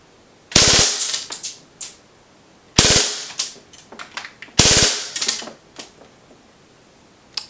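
A KWA MP7A1 gas-powered airsoft submachine gun fires three short full-auto bursts, each a rapid sharp rattle, separated by pauses. Between the bursts come lighter mechanical clicks and handling noises, close and loud.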